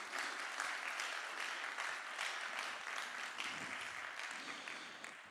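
Faint, steady applause from an audience at the opening keynote of a food technology conference, a continuous wash of many hands clapping heard from some distance.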